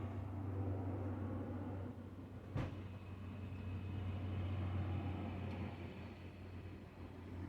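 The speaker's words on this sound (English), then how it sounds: "That's just a car." Car passing outdoors amid trees, a low steady rumble with a droning hum that swells and fades, with one sharp thud partway through and no voices.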